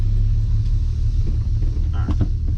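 A car idles and creeps backward in a busy car wash line, a heavy low engine rumble close and steady with a few faint knocks and clicks over it.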